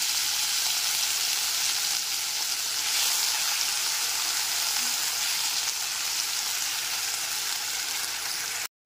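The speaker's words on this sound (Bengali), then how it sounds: "গ্যাসের ফ্লেমটা লোতে রেখে সমস্ত গরম মশলাগুলোকে 15 থেকে 20 সেকেন্ড হালকা করে ভেজে নেওয়ার পর এর মধ্যে আদা, মৌরি আর কাঁচা লঙ্কার পেস্টটা দিয়ে দিলাম" Ginger, fennel and green chilli paste sizzling in hot spiced oil over a low gas flame, cooked for Kashmiri aloo dum; a close, steady, continuous frying hiss with no talking.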